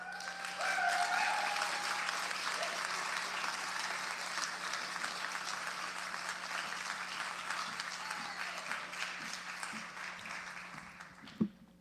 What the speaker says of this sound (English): I want to give him a round of applause again